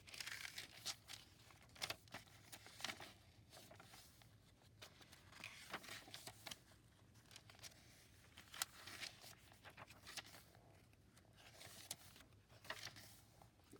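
Deli paper for a handmade journal crinkles and rustles in faint, close, irregular bursts of handling, with no talking.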